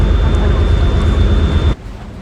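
A boat cruises along the Grand Canal in Venice, its steady engine drone and water wash running continuously before cutting off abruptly near the end.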